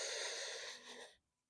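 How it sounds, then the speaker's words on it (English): A single deep, close breath in during a stretching exercise: a long airy inhale that fades out and stops just before the end. "Using those deep breaths, breathing in."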